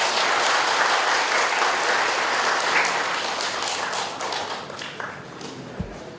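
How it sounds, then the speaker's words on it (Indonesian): An audience at a gathering with volunteer cleanup mothers claps together in a loud sustained round of applause that gradually thins and fades, ending with a soft thump. "tepuk tangan untuk kita semua"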